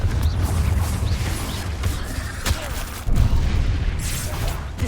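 Confringo fire spell from Hogwarts Legacy erupts in a booming blast amid rumbling crackle and mechanical clatter, loud and dense, with a sharper hit near the middle.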